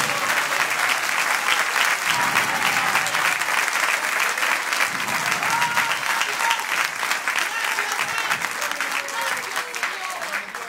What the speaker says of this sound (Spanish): démosle un aplauso a él, mi hermano